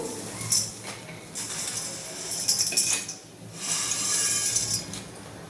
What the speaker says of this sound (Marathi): पाण्याला उकळी आली, आपण नूडल्स टाकून घेऊ